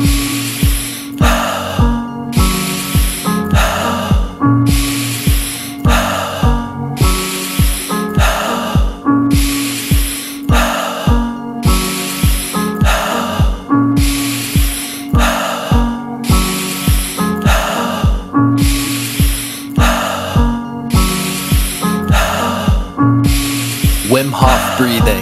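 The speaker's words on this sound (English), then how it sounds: "Alkaline breathing. In through the nose, out through the mouth." Guided rapid breathwork, in through the nose and out through the mouth, repeats as a steady cycle of about a dozen forceful, hissing breaths, loud and close over a sustained musical background.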